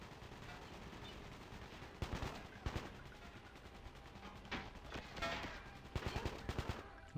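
Gunfire in Call of Duty Declassified on PS Vita, with scattered bursts of automatic weapons and single shots crackling at moderate distance, rising in clusters over a continuous noisy battle background.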